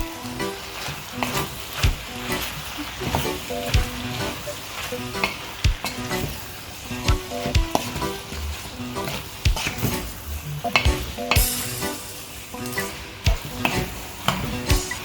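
Linguine with corn and herbs, a vegan dish, sizzles steadily in a hot pan while being tossed and stirred, with repeated scraping and clattering strokes over the continuous frying hiss.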